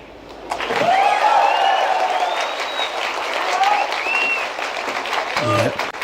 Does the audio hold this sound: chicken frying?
no